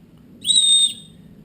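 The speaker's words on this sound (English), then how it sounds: "Has a built-in whistle." A built-in whistle on a Gerber fire starter gives one short, shrill, pure blast of about half a second, clear and close against a quiet background.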